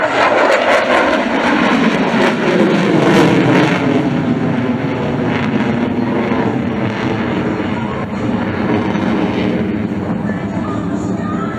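An F-22 Raptor jet flies a power loop at an air show, producing a loud, roaring jet rumble that sweeps in pitch as it climbs through the vertical, continuous and powerful throughout.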